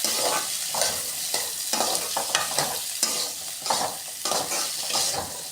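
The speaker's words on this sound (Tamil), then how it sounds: "இதெல்லாம் வறுக்கிறோம்." Coconut pieces fry and sizzle in a pan for a cauliflower curry, with a steady hiss and repeated scraping stirs of a spatula, close and fairly loud with no talk.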